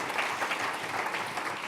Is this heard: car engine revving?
no